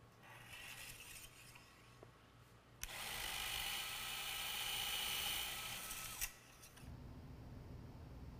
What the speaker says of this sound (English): we'll use the same VIP pilot reamer in order to do our pilot ream